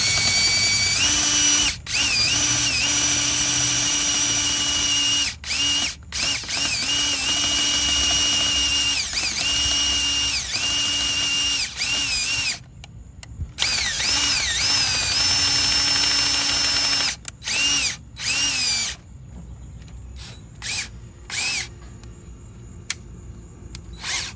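A power drill bores into a car battery terminal, running loud and steady in long high-pitched whining bursts with brief pauses, then short stop-start pulses near the end.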